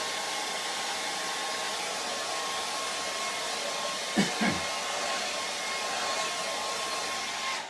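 Hair dryer blowing on wet paint during an oak tree painting, a steady, loud, close whoosh running the whole time with a brief bump of handling noise partway through.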